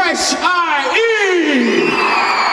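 A concert crowd in Winnipeg at a charity rock show cheers and whoops for a performer, a loud continuous roar of voices with rising whoops and yells throughout.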